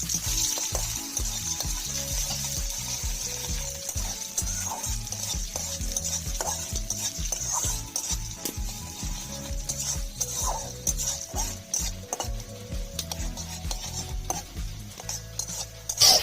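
Whole cumin seeds and chopped onion fry in hot oil with a steady, close sizzle, broken by rhythmic scraping strokes of a spoon stirring the pan throughout.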